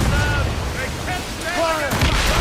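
Ship cannons booming in a naval battle in Assassin's Creed Rogue, several loud broadside shots under shouted orders from a crew, with dense battle noise throughout.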